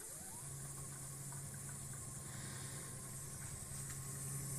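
A MOYU portable washing machine running its cycle, a steady low mechanical hum and drone with faint sloshing, continuous and fairly quiet, no talking.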